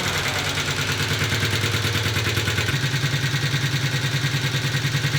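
A Honda CB250 Super Dream motorcycle engine runs close and loud at a steady idle, its even low pulsing chug shifting slightly in pitch partway through, with no voices.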